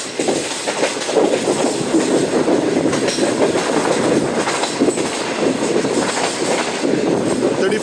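Shalimar Express passenger train running fast, then easing its speed on the approach to Sama station yard; a loud, continuous rumble with rhythmic clatter of wheels on rails, heard from on board.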